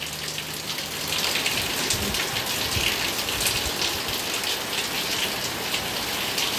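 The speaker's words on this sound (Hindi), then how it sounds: "कितनी जम के बारिश हो रही है आसमान में।" Heavy rain pours steadily, a dense continuous hiss of drops hitting surfaces, loud and close throughout with no voices.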